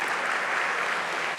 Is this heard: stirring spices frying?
no